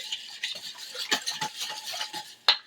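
Pinto bean mixture with whole milk being whisked in a bowl, a quick run of light scraping and tapping strokes ending in a sharper clink.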